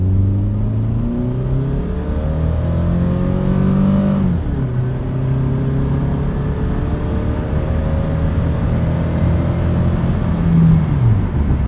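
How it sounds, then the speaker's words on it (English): A 25-year-old Toyota Camry's engine revs up and down repeatedly, its pitch climbing and dropping in smooth sweeps, heard close and steady with no talk over it. "I love the way this car revs out"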